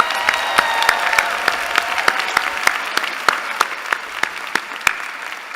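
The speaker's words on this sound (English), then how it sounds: "So let's have another round of applause for all of our student speakers this evening." Applause at a university commencement for the student speakers, a broad field of clapping across the hall with distinct sharp claps from nearby hands punctuating it steadily.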